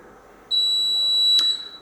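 A Barudan BENT embroidery machine sounds one clear, sustained electronic beep lasting about a second as a design loads into its memory, loud and close, ending with a short click.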